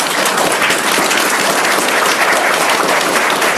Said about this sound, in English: so we could give you guys a big round of applause